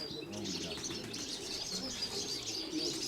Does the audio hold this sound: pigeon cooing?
yes